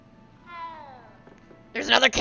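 A single drawn-out meow from a cat in the Hogwarts Legacy video game, clear and close, followed by a person speaking.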